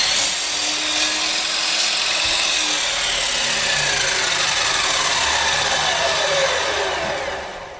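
A Harbor Freight 12-inch double-bevel sliding compound miter saw slides through a piece of wood, its blade whining loudly and steadily for several seconds before the cut ends and the motor sound starts to fade.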